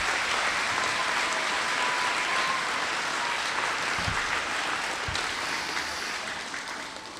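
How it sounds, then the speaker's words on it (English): A school audience applauds the students of Mountain View at an ARISS event, a dense, steady roar of clapping that holds throughout and fades slightly at the end. "Please give a round of applause to the students of Mountain View."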